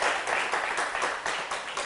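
Audience applause welcoming a university professor at a small church concert gathering: dense, steady clapping from many hands, loud and close, sustained throughout.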